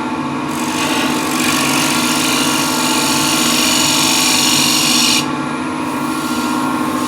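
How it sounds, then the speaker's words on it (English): A lathe-turned wooden trinket box is shear scraped, a loud continuous humming drone with a brighter rasping scrape rising over it midway and easing off near the end. "So I clean that out first flat and then shear scrape."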